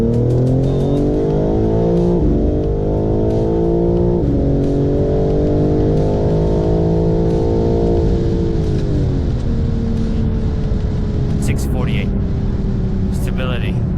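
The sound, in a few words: chip-tuned BMW M4 G82 accelerating with wheelspin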